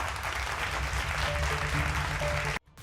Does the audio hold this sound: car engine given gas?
no